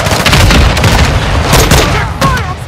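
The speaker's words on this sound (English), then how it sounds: "Throwing flash grenade." A flash grenade goes off in a military shooter video game: a loud, heavy boom with a rumbling tail that fills the whole stretch, followed by a second, sharper burst near the end.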